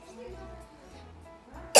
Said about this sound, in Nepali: ए खोकी पनि